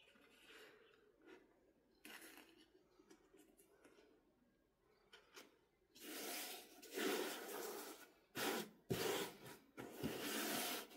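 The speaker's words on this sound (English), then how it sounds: "I'm using my Cricut brayer" A Cricut brayer rolls over a diamond painting, starting with faint intermittent rubbing before turning into loud, sustained gritty rolling strokes with brief pauses between passes, close by and without talk.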